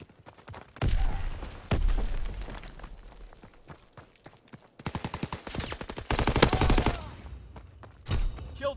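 Bursts of automatic and single-shot gunfire from Call of Duty: WWII in a hardcore Kill Confirmed match, loud and close, coming in several separate volleys with brief lulls between them.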